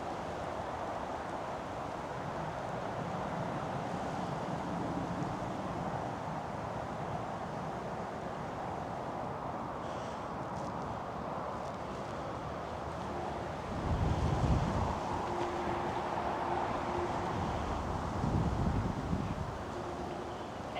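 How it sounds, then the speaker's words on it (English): Strong wind roars across the microphone outdoors while a DJI Mini drone flies, a constant low rumbling buffet that swells into heavier gusts, with no talk. "yeah, it's very windy, it's blowing it off course"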